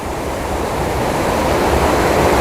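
Water pours through the open gate of a small check dam, a loud continuous rushing roar that stays steady and slowly swells, with no voices.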